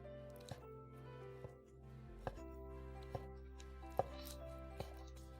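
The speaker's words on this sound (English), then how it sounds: "And the last one is chicken thighs. Cut them into pieces." A knife chops chicken thighs into pieces on a cutting board in a few sharp, spaced strokes, fairly quiet against a steady background hum.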